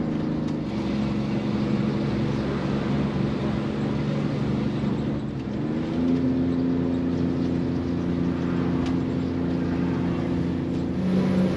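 A big coach RV rolls downhill in second gear at about 25 mph on the hairpin road from Arches National Park toward Moab, with a steady, loud engine drone whose pitch shifts partway through and no talk.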